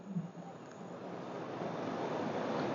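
Water rushes steadily in a continuous broadband wash that builds slightly in loudness, with wind noise buffeting the microphone at the start.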